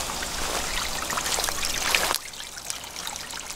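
A pump filling a water tank until it overflows, a continuous close trickling and splashing of running water that drops slightly in level partway through.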